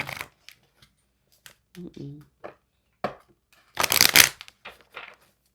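Brief bursts of cards being shuffled, with soft flicking and riffling, interspersed with a voice speaking quietly nearby.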